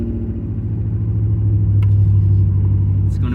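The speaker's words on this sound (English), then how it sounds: "the engine runs on the fuel that's in the fuel tank that is like almost 30 years old." An old vehicle engine idles on nearly 30-year-old fuel from its tank, a steady, loud low rumble throughout with a slight rise in pitch midway and a faint click near the end.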